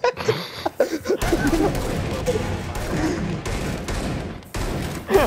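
Video game gunfire, rapid bursts and fusillades crackling and thumping through a dense mix, with a voice talking over the shooting near the start and end.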